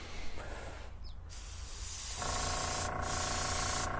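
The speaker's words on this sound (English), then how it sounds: "let's just start spraying." Airbrush or spray can applying ultra light gray paint to a 1:350 Enterprise refit model kit's warp nacelles, a soft steady hiss close by that grows louder and denser in the second half.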